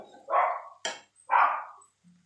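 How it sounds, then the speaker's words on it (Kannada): Two loud, close dog barks a second apart, with a sharp click between them, in a home kitchen while vegetable curry cooks. "ನಮ್ಮ ನಾಯಿ ಒದರಾಕತೈತಿ"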